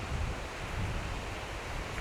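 Steady broadband wash of ocean surf, like waves breaking in the distance, continuous and even for the whole moment with no voices, on a beach in the Galápagos Islands.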